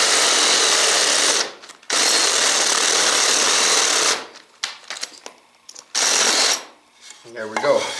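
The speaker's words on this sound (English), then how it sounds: "There's 2 1-inch spade bit holes." A Makita CXT FD06Z drill driver bores holes with a 1-inch spade bit, two loud sustained whirring runs separated by a short pause, followed by shorter bursts, clatter and handling noises.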